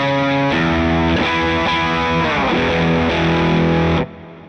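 Fender '62 Custom Shop Telecaster electric guitar played through distortion, sustained chords ringing loudly for about four seconds, shifting pitch midway, then cut off abruptly leaving faint residual noise.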